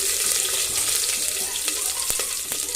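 Green chillies with curry leaves sauté in a hot pan, a dense continuous sizzle with occasional sharp clicks of a spoon, close and fairly loud.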